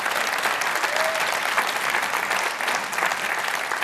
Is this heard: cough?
no